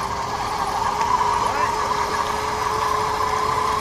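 RC crawler with a crawler-grade 35-turn motor and 3:1 gear reduction, giving a steady mid-pitched motor whine with a rising tone partway through, continuous and close.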